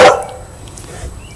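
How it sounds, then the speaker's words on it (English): Beagles barking, a single loud, close bark at the start that fades into quieter background noise with faint rustling afterward. "Goddamn dogs. They're loud."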